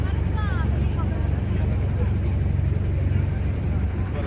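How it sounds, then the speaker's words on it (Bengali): Motorboat engine droning steadily on the river at Nayaghat, Banaras, a constant low rumble close by with water rush, while voices talk over it. "আমরা এখন নয়াঘাট থেকে বোটে উঠলাম"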